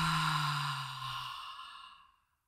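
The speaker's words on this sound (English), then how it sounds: "And a louder exhale." A loud, drawn-out exhale during a guided breathing exercise, one long breath out that starts strong and fades over about two seconds, heard alone without talk.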